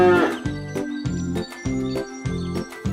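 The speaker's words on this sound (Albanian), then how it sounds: "Në tren pas ka hypur një viç i vogël." A cartoon calf moos repeatedly in a steady rhythm of short, loud, low calls, about five in under three seconds, over a light jingling accompaniment.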